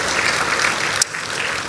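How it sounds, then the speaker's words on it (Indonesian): Church worshippers clap together in praise, a brief, full and evenly sustained round of applause from the whole congregation with no talk over it. "Berikan tepuk tangan kita untuk Tuhan kita."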